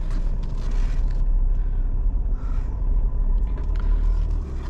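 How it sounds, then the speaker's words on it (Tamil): A diesel car engine runs with a steady, low rumble heard from inside the vehicle, loud and constant with no talking. "டீசல் இன்ஜின் சவுண்டு இப்போ கம்மியாக கேட்கும்"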